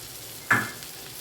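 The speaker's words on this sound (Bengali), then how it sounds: "এবার আমি প্রথমে ক্যাপসিকামগুলো দিয়ে দিচ্ছি" Capsicum pieces drop into hot oil and butter in a pan, giving one short, sharp hiss that quickly fades into a faint background.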